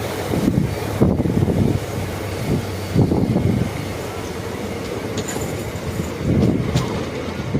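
Passenger train on a journey from Tiruchirapalli to Thiruvananthapuram, slowing as it nears a tunnel, with steady rumble, wheel clatter and wind noise close by and a few faint voices in the carriage.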